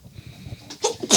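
A single close, sharp human sneeze bursts out near the end after a quiet buildup, loud and alone with no talk over it.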